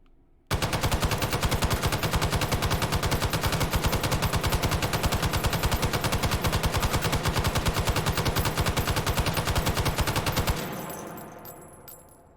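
Long sustained burst of M60 machine gun fire with a muzzle brake and laser adapter in the H3VR video game, rapid steady shots for about ten seconds, loud and close, then a short ringing tail.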